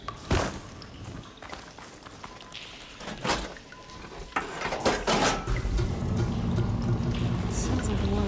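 Water being rerouted through pipes in Horizon Forbidden West: sharp clanks and drips at first, then a steady rushing, splashing flow builds and keeps running, with a voice speaking over it.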